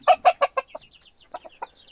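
A hen named Victoria clucks in a quick burst of four or five loud clucks, then a pause and a few softer clucks, close and alone, with faint bird chirps behind.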